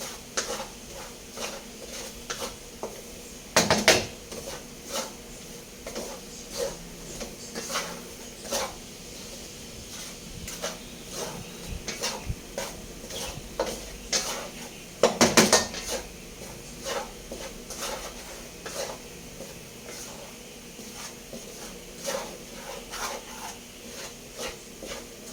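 Rice flour being stirred and toasted dry in a pan for polvoron, heard as steady scraping and clinking of a utensil against the pan, with two louder bursts of clattering standing out.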